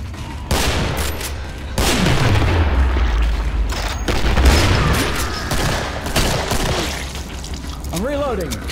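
Gunfire and reloading in the video game Killing Floor sound as dense, loud volleys of shots mixed with heavy booms and rumbling, continuing almost without pause.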